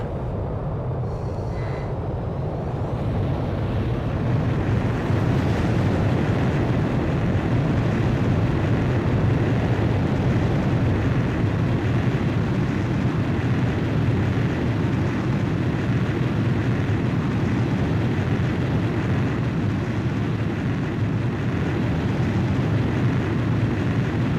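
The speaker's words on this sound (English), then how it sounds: "Blaze, you are cleared for takeoff" A fighter jet launching by catapult from an aircraft carrier in the Ace Combat 5 video game: a sustained, loud, low engine roar and rumble holding steady throughout after a brief rising start, with no voices.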